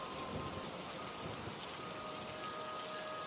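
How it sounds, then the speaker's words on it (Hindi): Steady rain pours down all around, a dense continuous patter with no pauses. "चारों तरफ से बारिश की आवाज आ रही है"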